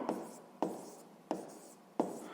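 A pen writes on paper while a sixth-grade maths exercise about a cube's edge is noted down: four short scratching strokes in a steady rhythm, close and fairly quiet, with no voices.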